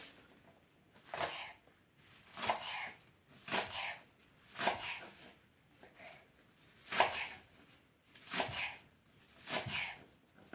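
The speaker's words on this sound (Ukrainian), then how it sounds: "Нарізаю я не міленько" Knife coarsely chopping onion on a board, about eight separate dull cuts in a steady, slightly uneven rhythm, close and fairly quiet, with no voices.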